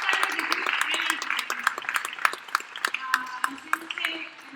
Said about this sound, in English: So I want a round of applause for the best panel today